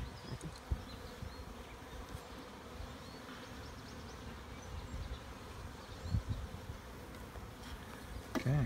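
Honey bees buzz steadily and close during a Cape Cod hive inspection, a dense continuous drone with a few soft knocks and thumps from handling the frames.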